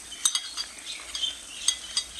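A utensil stirs tomato, ginger and garlic paste into browned onions in a pot during village cooking in Pakistani Punjab, giving light metallic clinks and scrapes at an uneven rhythm, close and moderately loud with no talking.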